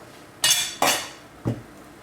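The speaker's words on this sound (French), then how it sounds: "Donc on coupe les extrémités." Knife slicing the ends off washed courgettes on a kitchen board: three short, crisp cuts, the first two sharp and close together, a duller thud following, with quiet pauses between.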